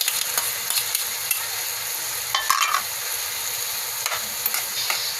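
Tomato frying in a pan with eggplant and ground pork, a steady close sizzle broken by a few scraping stirs of the spatula, with no talking.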